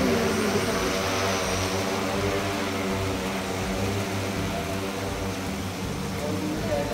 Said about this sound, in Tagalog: May human drone ngayon ulit.